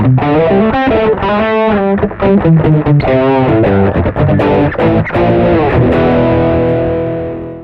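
A distorted electric guitar through an Azor AP-506 distortion pedal plays a run of notes and chords, gritty but fairly mild, ending on a ringing chord that fades out.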